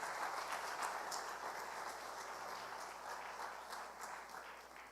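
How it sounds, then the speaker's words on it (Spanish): A church congregation claps during a sermon, a faint, even wash of many hands with a few louder claps rising now and then, fading a little toward the end. "Dale ese fuerte aplauso a Dios."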